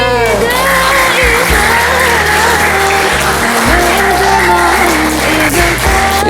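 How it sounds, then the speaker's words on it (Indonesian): Seventh-grade students in a school classroom clap loudly during a calligraphy painting project, dense, close applause that runs steadily throughout with some voices mixed in. "Tepuk tangannya mana?"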